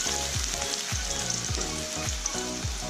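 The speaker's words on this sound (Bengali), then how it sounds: "পেঁয়াজটা একটু লাল লাল করে ভেজে নেব।" Chopped onions fry in a pan for Kolkata-style chicken kosha, a steady loud sizzle with rhythmic scrapes and thumps as they are stirred, no voices.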